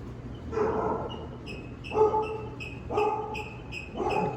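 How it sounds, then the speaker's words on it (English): A dog barks and yips indoors in repeated short bursts, about four or five close, fairly loud barks with brief pauses between them, inside a building holding old film projectors and reels. "Got a dog in here."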